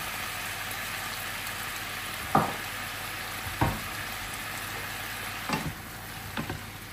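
A stir-fry with dark sauce sizzles steadily in a pan, loud and close, with four spatula stirs or scrapes spaced a second or more apart through the constant frying hiss.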